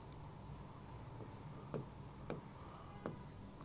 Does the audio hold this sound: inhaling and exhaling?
no